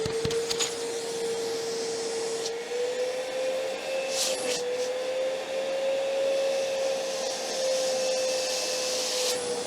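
A Metabo battery-powered wet/dry vacuum cleaner runs steadily, giving a constant motor whine with a smooth airflow rush that holds at an even level from near by, with only slight shifts in pitch.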